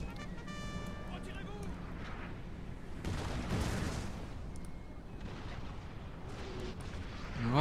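Artillery fire on a Napoleon Total War battlefield, a few dull booms rolling in from a distance beneath steady battle noise, with someone talking throughout.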